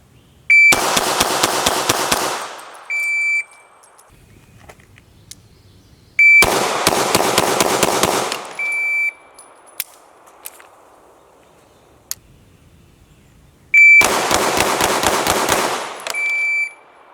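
Three separate quick strings of sharp pistol shots fired at a target from 5 yards, each a tight rhythmic burst of about a second and a half, with quiet pauses between strings and no talking.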